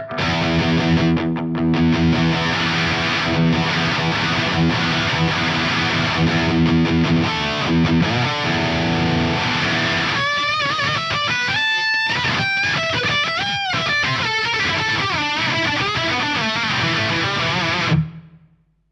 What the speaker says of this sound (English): There you go, the Soundblocks Multiwave Distortion from Source Audio.